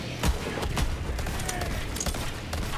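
Gunfire in the video game Borderlands 3 inside a dark area: a string of sharp, irregular shots over a dense, noisy background, moderately loud throughout.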